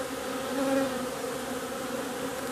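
Honeybees around a hive at an autumn apiary drone in a dense, continuous buzz, many insects humming together close by with no talking.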